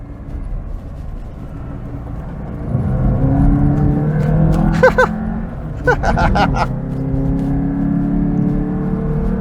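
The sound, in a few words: Alfa Romeo Alfasud Sprint Veloce engine accelerating uphill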